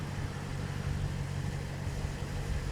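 A Maserati Quattroporte engine runs smoothly in a steady, even mechanical hum with a low, constant drone, with no talk over it.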